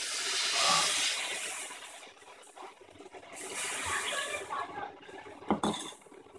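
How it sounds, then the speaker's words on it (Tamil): Rava dosa batter poured onto a hot griddle stone, a hissing, steamy sizzle that swells and then fades, with faint clinks of cookware and some nearby talk. "அதுக்கப்புறம் நல்ல கல் சூடாக இருக்கும் போது தான் இது ஊற்றணும்"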